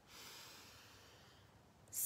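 A slow, steady inhalation during a Sat Nam breathing exercise: soft, airy breath drawn in for about two seconds, quiet and close, ending in a sharper rush of air.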